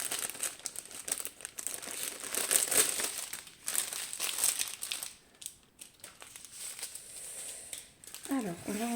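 Crinkly plastic packets of diamond painting beads are handled and opened, giving soft irregular rustling and crumpling close by while someone talks.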